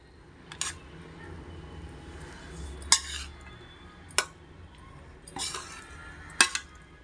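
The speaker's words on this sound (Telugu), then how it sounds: "కలుపుతున్నాను." Lemon rice being stirred in a pot, a few sharp metallic scrapes and clinks of a spoon against the pot at irregular intervals, close but fairly quiet against a low background.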